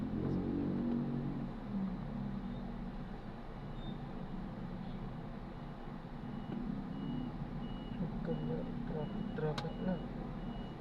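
Heavy road traffic near Valenzuela Medical Center in Karuhatan, Valenzuela, forms a steady engine rumble, with a faint reversing beep repeating over the roar and background voices now and then.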